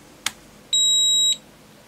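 A Keysight U1282A handheld multimeter gives a short click, then one clear, sustained high-pitched beep lasting about half a second, close and alone.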